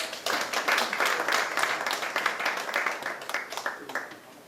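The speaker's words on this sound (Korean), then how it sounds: "박수를 모시겠습니다" At a Korean community politics forum, an audience claps to welcome the administrative affairs committee chair, a moderate, fairly quiet burst of many hands that tapers off near the end.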